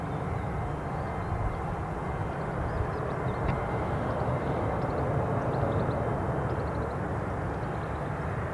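An airplane at Newcastle International Airport in the early morning makes a steady, continuous broadband engine roar that holds at an even loudness throughout.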